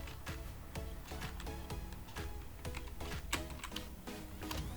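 Typing a printf line in C on a computer keyboard in Turbo C, a fast, close run of crisp key clicks that keeps up steadily with no speech.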